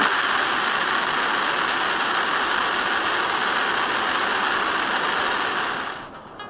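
Artemis solid rocket booster hot-fire test: a loud, steady, continuous roar holding at full level for about six seconds before tapering off at the end, with no talking.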